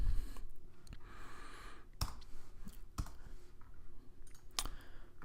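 Several crisp, separate mouse clicks spaced out over a few seconds while a computer is used to set up an article in a Drupal website, faint and close with light background noise and no talking.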